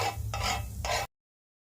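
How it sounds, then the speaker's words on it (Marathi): Cheese toast sandwich grilling in butter on a griddle over low heat, giving a steady close sizzle in three short bursts, then a sudden cut to silence. "आता आपण हे तव्यावर ग्रिल करून घेऊया, थोडंसं बटर लावून घेऊया आणि गॅस बारीक ठेवूया"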